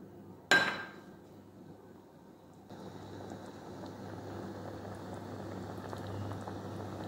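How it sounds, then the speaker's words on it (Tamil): A bitter gourd curry with tamarind and coconut milk simmers in a pot, opening with one sharp clatter, then a low steady bubbling hiss that thickens after a few seconds, quiet and close with no voices. "இப்போ பார்த்தீங்கன்னு சொன்னால் குழம்பு நல்லா சூப்பராக கொதிச்சு கொண்டு வருது"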